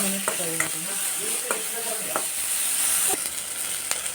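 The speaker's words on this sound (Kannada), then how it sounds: "ಒಂದು 2 ಮಿನಿಟ್ಸ್ ಫ್ರೈ ಮಾಡಿ." Moringa drumstick pods fry in hot oil in a pan, a steady close sizzling hiss broken by sharp scraping knocks of a spatula stirring every second or so, with no talking.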